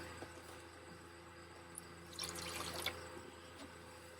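Water poured from a bottle into a coffee setup inside a minivan camper, a faint splashing trickle with a few drips, building briefly toward the middle then fading, close and alone with no talk.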